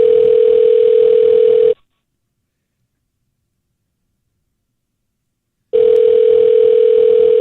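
A steady telephone dial tone sounds loud and alone for a couple of seconds, cuts to silence for about four seconds, then returns just as loud, heard while a call is placed to play back a voicemail.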